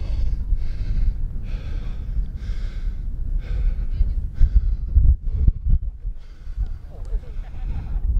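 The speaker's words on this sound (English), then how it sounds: "Climbing up that sand dune, I'm out of breath." Heavy, ragged breathing from someone winded after climbing a steep orange sand dune in the Wadi Rum desert of Jordan; loud, close gasps and exhales with light wind buffeting the microphone.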